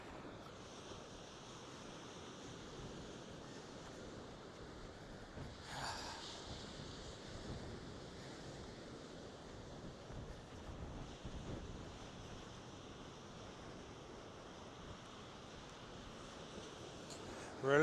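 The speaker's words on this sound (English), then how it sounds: "Relentless wind" Strong wind buffets the microphone with a steady roar while surf breaks along the Norfolk coast near Happisburgh, a continuous loud wash with a brief gust surge partway through and no talk.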